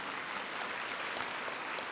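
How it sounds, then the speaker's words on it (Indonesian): An audience at a marketing talk in Indonesia claps steadily, a dense, even patter of applause heard at moderate distance with no voices over it. "Tepuk tangan untuk Indonesia."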